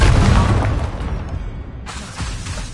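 A Confringo fire spell explodes in Hogwarts Legacy, a loud booming blast with a deep rumbling tail that fades, then a second softer burst near the end.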